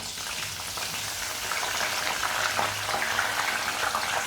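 Washed butterfly pea flowers hit hot oil for a homemade hair oil and set off a loud, steady crackling sizzle close by. The sizzle grows a little stronger partway through, with no talking.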